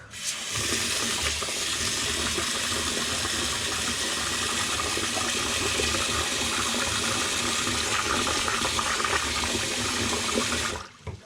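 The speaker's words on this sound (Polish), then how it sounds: "Nalewamy do niego wody." Water running from a tap into a pot of uncooked rice for sushi, a steady close rushing gush that holds at an even level for about ten seconds before cutting off abruptly.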